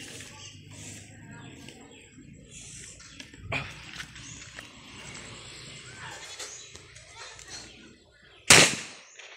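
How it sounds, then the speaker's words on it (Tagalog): A homemade carbide cannon (boga) fires one sharp, loud blast near the end, after a smaller pop earlier, while people talk and chatter outdoors. "Yung kalburo natin pumutok na."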